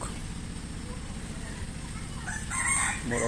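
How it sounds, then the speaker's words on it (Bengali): A jungle fowl crows near the end, a short strained call rising over a low steady background murmur. "এগুলো হচ্ছে যে বনমোরক"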